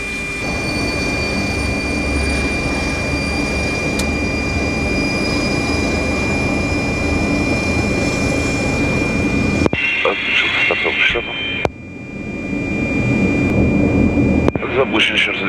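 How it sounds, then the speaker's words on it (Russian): Engines of an Antonov An-22 cargo plane being started, heard from the cockpit as a loud, steady turbine roar with a high whine, which breaks up into crackling bursts near the end while crew talk over it. "Запущен еще раз двигатель на маму"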